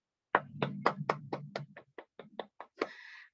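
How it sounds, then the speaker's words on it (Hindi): Audience clapping at an invitation session, heard as about a dozen separate, fairly close claps in an uneven rhythm over a low murmur, ending with a brief hiss. "इनके लिए भी एक जोरदार तालियां दोस्तों"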